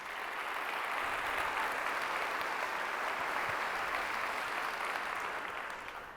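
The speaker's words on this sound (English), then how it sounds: "Let's give Lance another big round of applause" A large audience applauds steadily for Lance at a school district keynote event, a dense, even wash of clapping that holds for about six seconds and fades slightly at the end.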